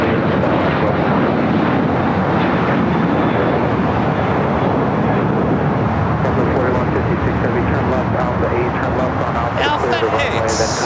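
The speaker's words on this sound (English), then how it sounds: "United Airlines flight 1396, the 777-200ER heading to Newark. Will be the next takeoff on the 25 right." A United Airlines Boeing 777-200ER roars down runway 25 right at Los Angeles LAX on its takeoff run, a loud, sustained broadband jet thunder filling the whole stretch, with a voice talking over it.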